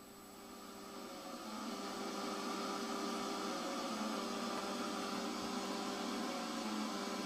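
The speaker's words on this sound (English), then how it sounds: "the do do do is what's been generated by the ZX80, and the hiss is intolerable" Steady hiss from a ZX80 computer's television coax output fills the recording, with the computer's faint, thin generated tune buried underneath, continuous and unchanging throughout.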